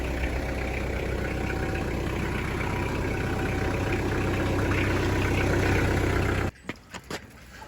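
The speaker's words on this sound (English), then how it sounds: "tractor sounds pretty good. Just fired right up." A Kubota L3840 tractor engine idles steadily with a low, rumbling throb for several seconds, then cuts off abruptly, leaving a few faint knocks and clatters.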